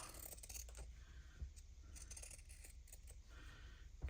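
Scissors trimming a Christmas stocking, quiet close snipping and rustling of fabric in short irregular bursts, faint against a low room hum, no talk.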